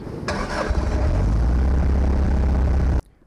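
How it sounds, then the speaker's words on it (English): Loud, steady gyroplane engine roar fills the air at close range, then cuts off abruptly, leaving near silence. "I'm getting a bunch of engine noise"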